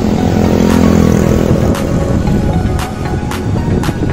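A motorcycle rides along a hill road at Yeoor Hills, its engine droning loud and close with steady revs, the tone dipping slightly as it goes, mixed with wind rush.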